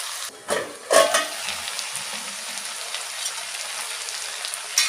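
Chicken pieces fry in oil with ginger garlic paste, turmeric and salt for chicken varuval, giving a steady close sizzle with a few louder spits and stirring bursts, no talk.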